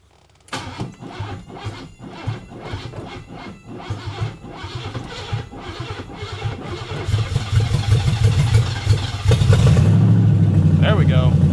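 A neglected Pontiac Firebird with no muffler cranks and fires up, the starter churning before the engine catches and settles into a loud, rough, raspy idle close by.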